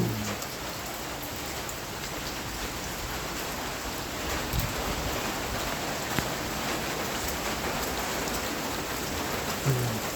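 Steady moderate rain falling outdoors around a clogged drainage pipe and ditches, a constant even patter with no pauses, fairly faint and heard alone without any talking.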